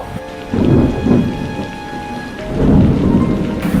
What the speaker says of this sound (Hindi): मौसम खराब होने लगा है, कहीं बारिश न हो।